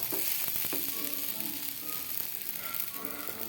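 A tomato dosa sizzles steadily on a hot pan after being flipped, a close, constant frying hiss with faint scraping touches and no talk.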